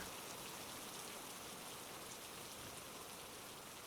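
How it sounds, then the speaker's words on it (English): Rain falls steadily in a soft, continuous hiss of drops with no talking, quiet and even throughout. "It's raining."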